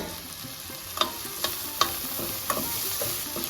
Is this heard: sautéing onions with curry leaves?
yes